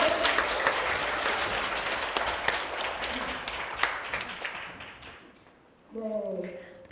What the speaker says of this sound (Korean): 다영 리더님께 큰 박수 한번 부탁드리고요